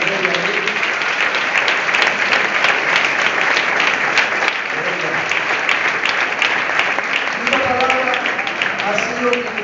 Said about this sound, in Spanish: Den un aplauso fuerte al Rey.